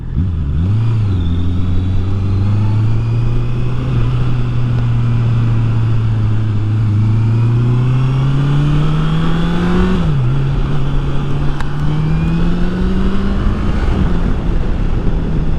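Honda CBR650R motorcycle engine riding into town, a loud close engine drone rising and falling steadily with gear changes and throttle shifts, no talking.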